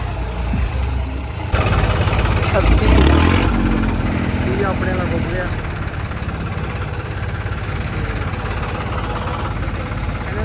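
A 3630 tractor stuck in deep water and mud, its engine rumbling low and steady with a brief surge near the start while someone talks over it.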